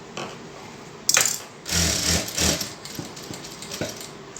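A sewing machine is stitching soft double-sided fabric, giving short bursts of close mechanical whirring and clatter with pauses between runs. There is no talk.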